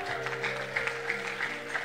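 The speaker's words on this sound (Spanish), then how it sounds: "Denle un aplauso fuerte al Rey." A church congregation at a worship service claps for the King, steady applause filling the room beneath sustained organ or keyboard tones.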